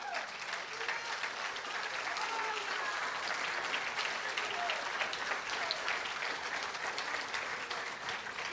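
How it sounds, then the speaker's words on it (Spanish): A church congregation applauds together in sustained, dense clapping that fills the whole stretch at steady loudness, with faint voices and calls mixed into the crowd noise. "¿Cuántos se atreven a darle un aplauso al Señor?"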